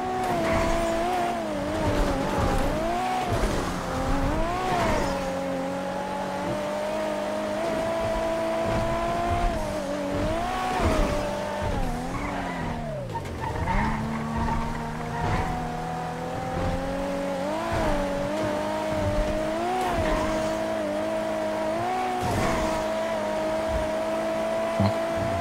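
Cars race in GTA NoPixel, engines droning and revving through repeated gear changes while tires squeal in long skids through turns, one continuous loud run with rising and falling pitch.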